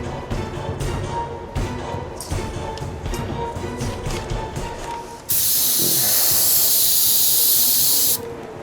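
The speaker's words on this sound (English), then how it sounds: "Try to clean the airbrush itself." An airbrush is being cleaned, with small taps and clatter first and then a loud sustained hiss of air for about three seconds up close.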